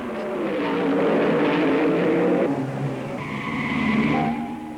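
Racing cars at the 1959 Monaco Grand Prix, red Ferraris chased by small rear-engined British Cooper Climaxes, roar past close by, a loud sustained engine drone that shifts pitch as one car passes and another rises in its place, with no talk.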